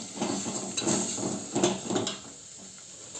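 Millet flour cooks in a pot and is stirred continuously, giving soft, uneven scraping and thudding strokes against the vessel in a loose rhythm, close by and fairly quiet, fading to near stillness at the end.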